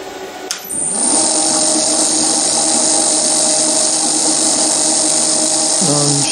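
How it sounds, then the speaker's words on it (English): Milling machine spindle drilling a small hole in metal for a mill vice stop, a steady high whine that starts after a sharp click and runs loud and constant at close range. "I'm about to drill a hole through here, and then I shall ream it 8mm for the bolt to go through"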